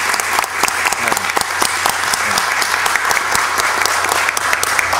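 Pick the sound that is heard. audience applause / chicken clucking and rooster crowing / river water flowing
audience applause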